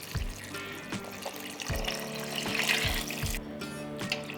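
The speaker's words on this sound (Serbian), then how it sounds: "I sada ću naliti sa vodom." Water poured from a tap or jug into a cooking pot of beans with fried meat, a steady close splashing fill, with a few low knocks underneath.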